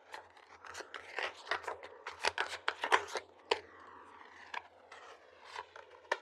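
A tarot deck is shuffled in rapid papery bursts of snapping and riffling cards, close and crisp, with uneven rhythm and a faint low hum beneath, no one speaking.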